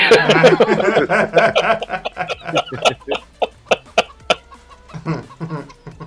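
Chickens in the Farming Simulator 17 video game cluck loudly and repeatedly in quick, uneven bursts, with voices mixed in at the start.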